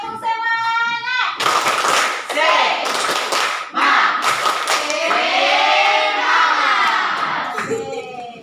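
A classroom of students in Indonesia performs a rhythmic spirit clap, loud and close, with repeated sharp hand strikes and excited group shouting filling most of the clip.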